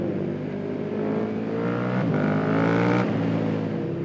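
A 2020 KTM 1290 Super Duke R motorcycle fitted with an Akrapovic exhaust roars steadily at close range, its engine note rising and dropping through gear changes, loud and continuous with no voices.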